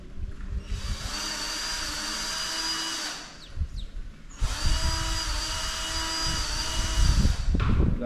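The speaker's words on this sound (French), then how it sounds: "Là, la visseuse, c'est la vie." A cordless screwdriver unscrews screws from an Xmaxx RC car, two long, close, steady high whirring runs separated by a brief pause with small clicks and handling noise.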